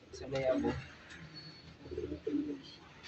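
Soft pigeon cooing comes in two low, rolling bursts with a pause between, close by and fairly quiet.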